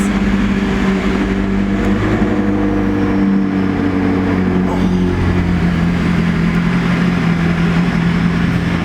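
A McLaren 600LT Spider's engine rumbles steadily up close, a deep continuous drone that swells slightly midway and holds loud and unbroken throughout.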